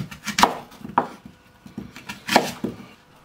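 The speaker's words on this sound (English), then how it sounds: "Cut the apples in half, cut the apples in quarters" A knife cutting apples into quarters on a wooden chopping board, a few sharp close thunks and cuts in an irregular rhythm with no talking.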